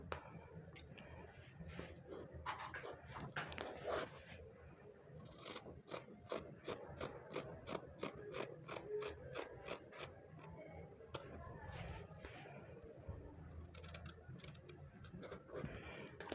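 Scissors snip through fabric while cutting out a cowl kaftan dress, a close, quiet run of rapid clicking cuts in uneven bursts, with short pauses between the strokes.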